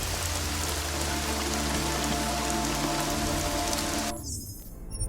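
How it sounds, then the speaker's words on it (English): Steady heavy rain falls in Deus Ex: Mankind Divided, a dense continuous wash of drops that holds for about four seconds and then drops away abruptly near the end. "Damn, that rain with the lighting."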